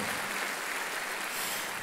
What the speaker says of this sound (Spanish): un aplauso a nuestro Padre Celestial